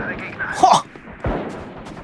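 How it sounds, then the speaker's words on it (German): Gunfire in the tactical shooter Valorant cracks out in two quick separate bursts, loud and close, with a voice speaking around them. "Die waren beide nacheinander die Schüsse."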